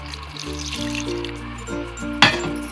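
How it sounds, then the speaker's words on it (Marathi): Water is poured in a short splashing burst onto salt and sugar for grinding in a mixer, while steady background music plays throughout. "आपण थोडंसं पाणी टाकूया त्याच्यामध्ये"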